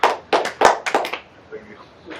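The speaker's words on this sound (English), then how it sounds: "Let's applaud." Audience in a chemistry lecture applauding briefly, a short burst of several claps from a small group close by that quickly dies away.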